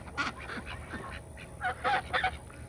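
A protective domestic goose honks in short, repeated nasal bursts at close range, the calls grouped loosely near the start and clustered again toward the end, with no talk.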